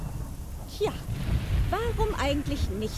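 A thunderstorm in the video game Chaos of Deponia rumbles low and steady beneath someone speaking, with a dull roll of thunder and a rain-like wash in the background.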